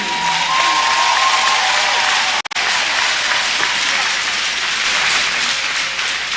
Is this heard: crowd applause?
yes